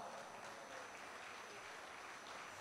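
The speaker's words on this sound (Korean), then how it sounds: "큰 박수 부탁드리겠습니다." Guests at a gala dinner give steady applause, a fairly quiet, continuous wash of clapping from across the hall with no break and no one speaking over it.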